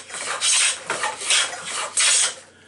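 A simple hand plane shaves wood, its blade set to take a real cut, giving four rasping strokes in a loose rhythm, each a bright, close scrape, with brief pauses between passes.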